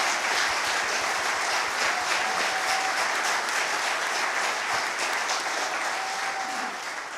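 An audience at a Christmas handbell concert gives a full round of applause, dense and continuous clapping that tapers slightly toward the end.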